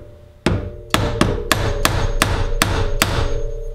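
A screwdriver striking the preload collar on a KTM WP motorcycle shock, eight sharp metallic taps landing at a fairly steady pace, close and loud with a ringing tail after each, and no talk.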